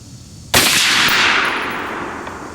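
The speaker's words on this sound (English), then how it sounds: "I'm gonna do a 3-shot group and see what we can get." A single sharp rifle shot from a Rock River Arms rifle chambered in 6.5 Creedmoor, fired close by, with a sudden loud crack that rings out into a long decaying tail.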